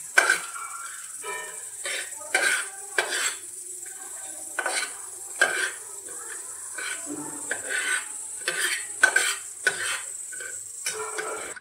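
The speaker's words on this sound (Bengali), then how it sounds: "মশলাগুলো ঠিক ততক্ষণ পর্যন্ত ভাজবো যতক্ষণ না এখান থেকে সুন্দর একটা গন্ধ ছাড়ে" Whole spices are dry-roasted in an unoiled pan, with repeated scraping, rattling and clinking of a spatula against the metal in irregular bursts, fairly close and moderately quiet.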